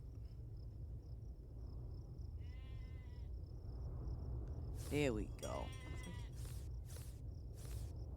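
Sheep bleating in the Farm Together 2 farming game, a few short harmonic bleats midway, moderately loud against a steady insect-like ambient drone, with someone talking briefly.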